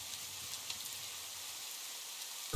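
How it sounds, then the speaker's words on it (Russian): Food fries in a cooking vessel in the survival game TerraFirmaGreg, a faint steady hiss of sizzling that continues evenly, ending with a short louder knock at the very end. "Тут у меня кое-что жарится."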